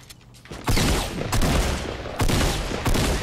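Automatic weapon fire from the video game Fortnite rattles loud and close in several dense bursts, each a rapid string of shots with brief gaps between volleys.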